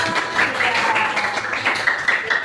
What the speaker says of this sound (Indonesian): Wih, betul boleh tepuk tangan dulu kita